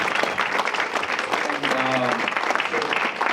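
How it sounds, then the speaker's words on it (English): Steady applause from an audience fills the clip, dense clapping at an even level throughout, with some voices and a faint tonal sound mixed in. "Let's give him a big round of applause for sharing."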